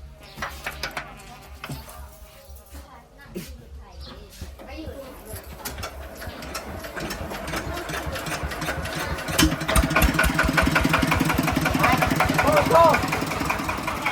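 A farm tractor engine runs steadily while reversing, its chugging idle building louder toward the end, with voices talking over it and birds cooing faintly in the background.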